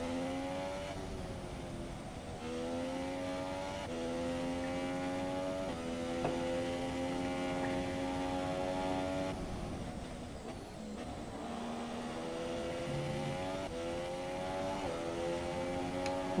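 Race car engines in the F1 2017 racing game on the Russia circuit drone steadily, their pitch rising and falling through gear changes in a continuous, fairly loud whine with no talk over it.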